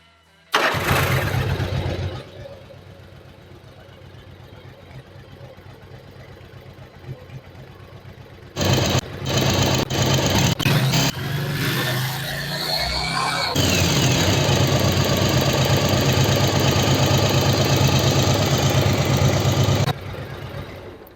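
A Yamaha Virago 1100 V-twin motorcycle cranks and fires, then settles into a loud, steady idle close by while its carburettors are being synchronised. Midway it rises briefly in revs before holding a strong, even run that cuts off near the end.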